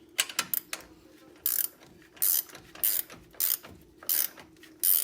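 A ratchet snugging upper control arm bolts on a 2000 Nissan Frontier, giving a series of short, crisp clicking bursts in an irregular rhythm with brief pauses between pulls, close and fairly quiet.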